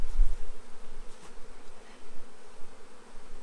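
Honeybees buzzing during a swarm transfer into a hive, a steady low drone from many bees close by, fairly loud and continuous with no talking.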